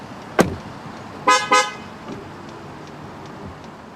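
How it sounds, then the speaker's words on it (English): A 2015 Ford F-150 Platinum FX4 pickup's door shuts with a single thud, then the horn gives two short loud honks close by. "Upon closing the door of the vehicle, sound the horn a couple times to let you know it's lost detection of the proximity key fob."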